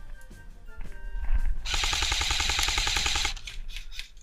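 Airsoft gun fires a rapid full-auto burst during an outdoor war game in Moreno, Argentina: a dense run of fast, evenly spaced mechanical cracks lasting about two seconds, loud and close, with faint field noise around it.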